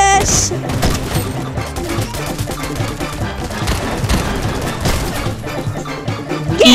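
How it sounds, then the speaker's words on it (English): Dense barrage of explosive booms and rapid gunfire from a Fortnite Chapter 5 match as cluster bombs go off, loud and continuous for the whole stretch with a voice briefly audible over the din. "Yes, I can cluster bomb them!"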